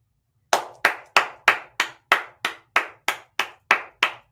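About a dozen sharp, evenly spaced hand claps ring out one after another at a steady beat, crisp and close, with silence before the first one and no talk between them.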